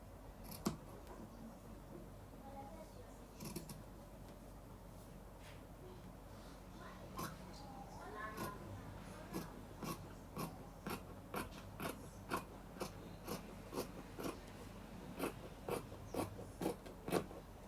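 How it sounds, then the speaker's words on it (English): Scissors snipping through fabric along a marked scrub V-neckline placket, a steady run of crisp, close cuts that quicken into a regular rhythm toward the end, with faint room noise and no talk. "So next I'm going to go ahead and cut this out."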